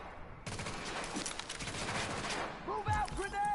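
Sustained gunfire from The Division game, dense overlapping shots and a busy firefight mix with shouting voices over it, loud and continuous throughout.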